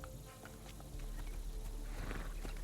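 Horse hooves in the Assassin's Creed Shadows video game, a faint, steady clip-clop that continues under low background game ambience with no talk.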